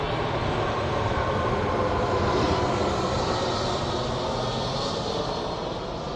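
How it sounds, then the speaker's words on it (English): Steady broadband roar of a UPS cargo airplane passing overhead a couple miles from the airport, loud and continuous throughout with a slight swell in the middle, no voices. "UPS planes fly over every 20 minutes when they're on their go."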